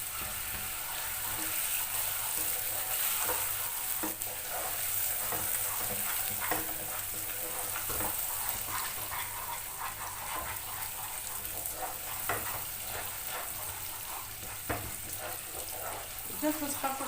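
Butter melting into caramelized sugar in a pan while being stirred, a steady close sizzle and fry with scraping stir strokes running throughout, for a caramel cheesecake.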